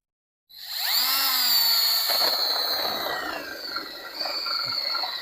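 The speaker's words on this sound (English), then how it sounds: "I just need to bore that hole out to get this sleeve past and into the ground." A power drill whines loudly and steadily as it bores out a 3/8-inch hole in concrete to fit an anchor sleeve for a gazebo, starting abruptly and running close up with a slight wavering pitch.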